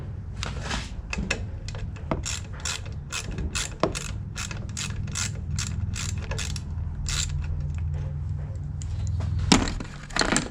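A ratchet wrench backs out 5/16 bolts with a rapid series of close, crisp ratcheting clicks in quick bursts, with a few heavier clunks between them and no talk.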